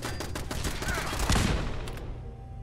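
Turrets open fire in Fallout 4, a loud, dense burst of rapid gunfire that swells around the middle and then tails off, with no talking over it.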